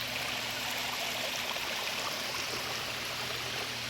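A river stream on an outdoor RC rock crawling course flows in a steady, close rushing hiss of water that stays even and unbroken throughout, with no voices.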